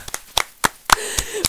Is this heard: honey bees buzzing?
no